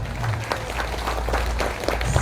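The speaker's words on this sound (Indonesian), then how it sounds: "Tepuk tangan buat ranting loh" A crowd at a Nahdlatul Ulama centenary gathering in a village hall applauds in a steady, rattling patter over a low room hum. A faint murmur of voices sits underneath.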